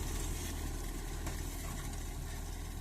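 A tractor pulls a comb harrow across a field, giving a steady, low engine rumble with a constant droning hum and no pauses.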